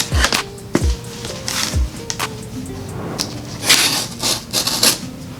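Blade slicing open a cardboard shoe box for Nike Blazer Mid sneakers, a run of close, sharp scraping cuts and tapping clicks at an uneven rhythm, with no talk.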